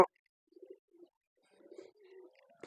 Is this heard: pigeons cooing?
yes